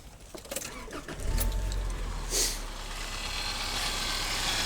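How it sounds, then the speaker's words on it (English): A Subaru Outback with a 2.5L four-cylinder engine cranks briefly after a few keys jangle nearby, catches, and settles into a steady low idle close by, with a short higher burst as it fires. "And now let's start the engine."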